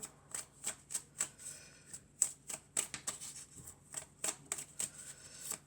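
Tarot cards are shuffled close up and quietly during a card reading, a rapid run of crisp slaps and riffles in uneven bursts.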